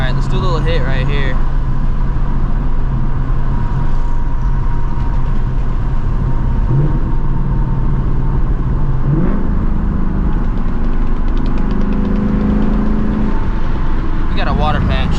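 A 2024 Mustang GT running on E85 accelerates hard, its loud engine roar filling the scene and climbing in pitch toward the end, with a voice speaking over it.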